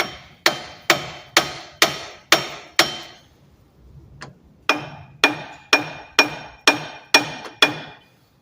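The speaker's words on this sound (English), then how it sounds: "Let's try tapping on the knuckle." A hammer taps on the front steering knuckle of a 2002 Ford Ranger 4WD. About a dozen sharp, ringing metal strikes come close and loud at a steady pace, split by a short pause after the first seven.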